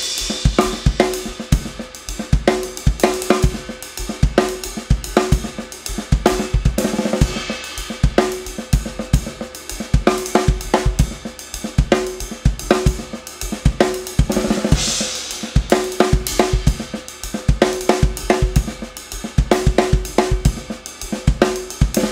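A drum kit plays short roll patterns grouped in septuplets, a fast, dense run of snare and tom strokes with regular accents, steady and loud throughout with no talking.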